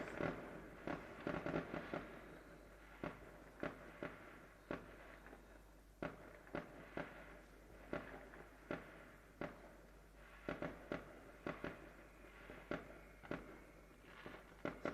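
New Year's Eve fireworks burst and crackle in the distance, with repeated sharp bangs coming every second or so, some in quick clusters, over a quiet night background.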